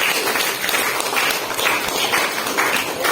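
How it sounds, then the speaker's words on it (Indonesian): Classroom of students applauding after a group presentation on Japan's defeat in World War II, a steady, loud burst of clapping that fills the room throughout. "Oke, tepuk tangan."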